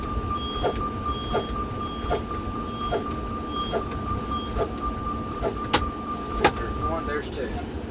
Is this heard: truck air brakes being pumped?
yes